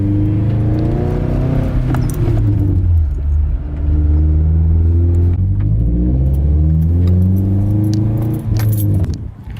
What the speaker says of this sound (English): I'm gonna drive it around the block, let the engine run for a little bit